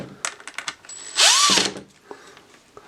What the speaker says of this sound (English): Yes, I know I'm using a drill when I probably shouldn't be.